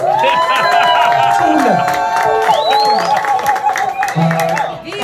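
A crowd at an anniversary celebration cheers, whoops and claps in a loud, lively burst, with voices shouting over the clapping close by.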